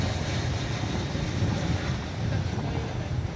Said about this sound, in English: There's an American Airlines flight arriving from Los Angeles